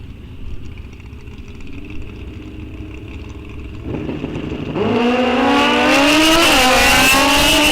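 Drag racing motorcycles at a bracket series event, one a car-tire bike and one a small-tire bike, idling with a low engine drone before roaring into a loud, rising high-revving launch down the strip.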